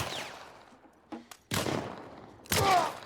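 Pistol shots in The Last of Us Part I: a few sharp, loud bangs spaced apart with brief quieter gaps, the last one heaviest and ringing out.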